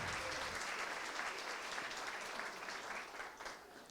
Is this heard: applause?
yes